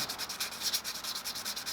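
Quick, even strokes of sandpaper on a mirror used as a flat sanding block, shaping a lockpick made from a hacksaw blade, in a steady rhythm, close and moderately quiet with no voices.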